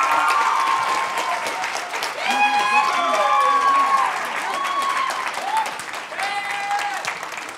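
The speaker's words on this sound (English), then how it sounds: "Gaby Pacheco and Jose Antonio Vargas, please give them a round of applause." An audience at a talk about immigration and DACA gives sustained, dense applause with cheers and whoops riding over it throughout, fairly loud and steady.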